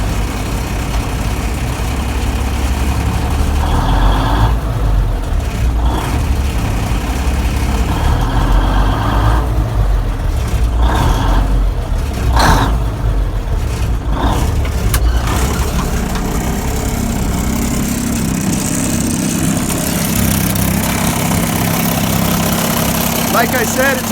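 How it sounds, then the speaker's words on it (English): A 1949 Kenworth 825 truck with a Cummins diesel engine idling warm, producing a steady low rumbling drone close by that runs unbroken throughout while someone talks over it. "It's got that traditional Cummins sound."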